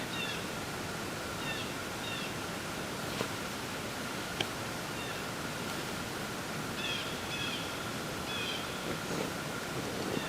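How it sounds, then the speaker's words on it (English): Blue jays squawk by a lake in a provincial park, a few faint, distant harsh calls in short pairs heard over a steady broad hiss of wind or water. "Just listening to the blue jays right now. They're pretty squawky today."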